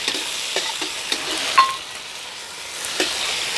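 Chopped onion sizzles and fries in a pan for vegetable Maggi noodles, a soft steady crackle broken by several spoon-stirring scrapes and a light clink, with no talking.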